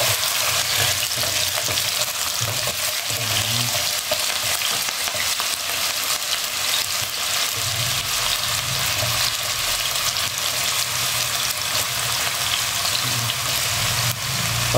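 Potatoes and carrots frying in oil for chicken puchero: a dense, steady crackling sizzle throughout, with occasional stirring and utensil knocks, close by and without talk.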